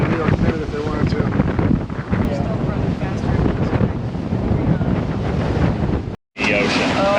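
Ocean waves and wind roar steadily around a sailboat under way off the British Virgin Islands toward Marigot, Sint Maarten, broadband wind buffeting the microphone continuously with one brief dropout near the end.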